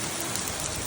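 Hail pelting down like heavy rain in Arizona, a dense, loud, unbroken hiss of countless impacts on surfaces nearby, with no voices.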